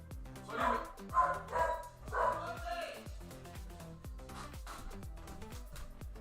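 A dog barks repeatedly in a quick burst of yips and woofs, then settles into softer whimpering under ongoing background chatter, fairly close and moderately loud.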